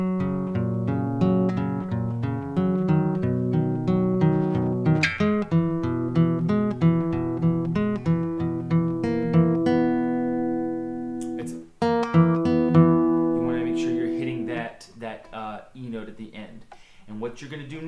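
Close acoustic guitar plays a flowing arpeggio part, steady picked notes ringing over one another in a continuous pattern, a brief gap near the end before the notes resume more sparsely.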